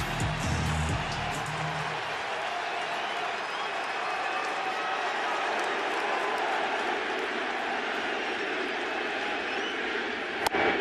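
Packed Yankee Stadium crowd at a World Series game between the Los Angeles Angels and New York Yankees, a loud, steady roar of cheering throughout, with a broadcaster talking over it early on and a sharp crack near the end.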